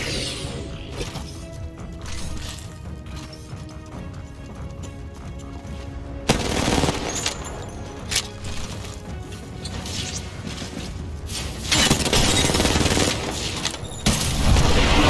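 Gunfire in the Apex Legends video game during a close final fight, rapid bursts and single loud shots over mechanical clatter and background music, growing denser and louder toward the end.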